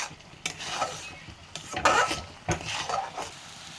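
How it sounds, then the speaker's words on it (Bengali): Chopped tomatoes being stirred in a cooking pan, a few scraping, rubbing strokes of a spoon with a faint sizzle underneath, close and moderately quiet, no talking. "টমেটোর কিছু কুচি দিয়ে দিব। কুচি দিয়ে দিয়েছি, এখন নাড়বো অনেক 5 মিনিট খানি"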